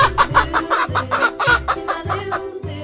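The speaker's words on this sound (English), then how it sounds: "Chicken." Chicken clucking close up in a series of short, throaty clucks with a rough rhythm, about six bursts in under three seconds, heard alone with no talk.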